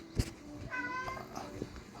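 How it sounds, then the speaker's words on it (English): Cat meowing: one drawn-out, close meow rises clearly over background room noise, with a sharp bump just before it. "Oh, the cat."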